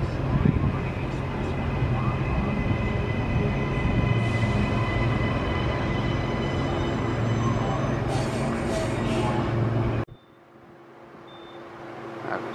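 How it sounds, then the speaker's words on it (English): Suburban passenger train pulling into platform one at Park Road Station in Brisbane, bound for Cleveland, a steady loud rumble with squealing overtones that cuts off abruptly after about ten seconds, leaving quieter station ambience. "We've got a train coming in,"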